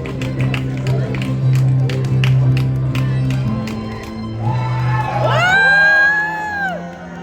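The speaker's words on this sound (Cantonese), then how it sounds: "用你哋最熱烈嘅掌聲歡呼叫歡迎佢哋進場" A wedding crowd in Hong Kong cheers, whoops and claps as the bride and groom enter. The noisy swell of voices builds toward the end, and people are talking through it.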